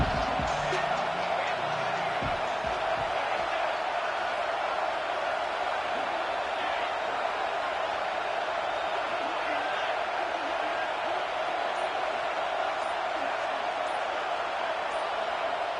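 A stadium crowd in a college football video game against Ohio State keeps up a loud, steady roar for the whole stretch, with a faint thump near the start.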